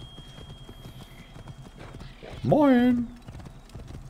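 Horse hooves clop steadily at a soft volume, and a loud horse whinny breaks in midway; a voice speaks a brief word. From the video game Assassin's Creed Origins.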